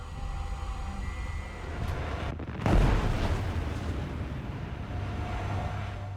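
An AIM-9B missile is fired in a dramatized sound effect: a steady roar and rumble, broken by a sudden loud burst near the middle, then a long heavy rumble that fades out slowly.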